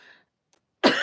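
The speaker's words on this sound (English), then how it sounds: "I got a cough." A single sharp, close cough bursts out after a brief murmur and a moment of near silence, loud and abrupt against the quiet room.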